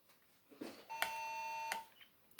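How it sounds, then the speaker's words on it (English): A baby monitor emits a faint electronic beep: a short tone, then a sustained pitched tone lasting under a second, with a small chirp afterward, in a quiet kitchen. "It sometimes is beeping that it has no signal"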